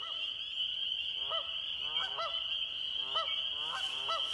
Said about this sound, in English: And there go the geese.